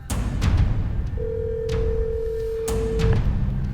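A phone call to a Minneapolis, Minnesota childcare center number, with a single steady ringback tone lasting about two seconds over a loud rumbling background with occasional thumps.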